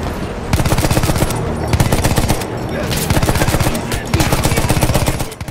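Loud, sustained machine-gun fire from the Battlefield 1 video game's Storm of Steel campaign, rattling in long continuous bursts with brief pauses, dense and close, with faint shouting underneath.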